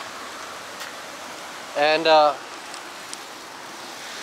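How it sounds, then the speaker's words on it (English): Rain falls outside a hotel in Meghalaya, India, with a small river nearby, a steady diffuse hiss throughout, broken briefly by a short spoken word. "as expected, it's raining"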